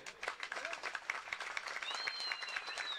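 Spectators at a traditional Turkish oil wrestling festival in Kabulbaba break into steady applause, a dense patter of claps with some whistles rising over it.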